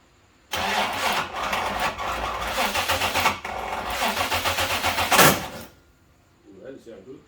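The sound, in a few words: Holden VNSS engine cranking on first start with Haltech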